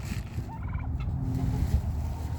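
Turkeys gobble in a steady chorus over a dense, low barnyard rumble, with a few sharper gobbles rising above the flock throughout.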